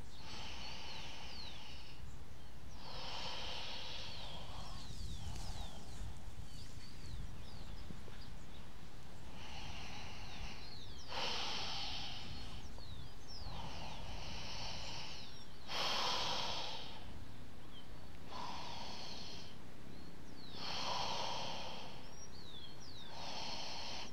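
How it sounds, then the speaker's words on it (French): Slow, deep abdominal breaths during a yoga session, with about ten unhurried inhale and exhale cycles spaced evenly and heard up close and alone. The breathing sits over a low steady background hiss. "Encore 3 respirations abdominales. Prenez le temps d'inspirer, d'expirer lentement."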